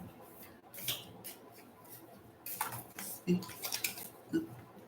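Tarot cards being shuffled by hand, giving soft papery riffles and clicking taps in short irregular bursts, quiet and close.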